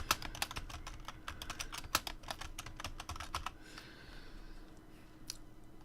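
Computer keyboard keys clatter in quick, irregular bursts of close, crisp clicks for about three and a half seconds, then thin out to a faint murmur with one last isolated click near the end.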